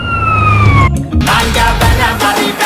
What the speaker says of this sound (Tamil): திடீர்னு அந்த ஆம்புலன்ஸ் சவுண்ட் அவன் வந்துட்டு இருப்பானுங்க